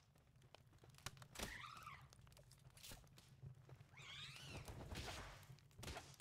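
Cat-like creature meowing in the video game Palworld, two wavering, pitched cries that are faint and set against low game ambience and scattered thuds.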